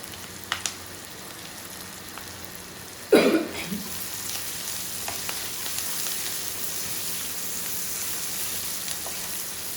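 Onions browning in a pan for home-cooked fried rice give a soft, steady sizzle, broken by a short clatter about a third of the way in.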